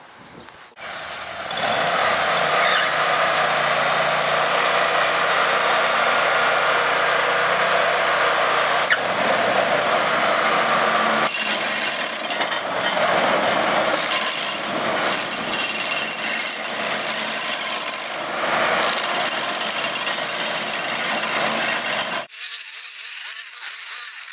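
A loud engine-driven stump grinder roars steadily while grinding a 48-inch tree stump, its pitch and grit shifting as it chews into the wood, running for a long stretch before cutting off.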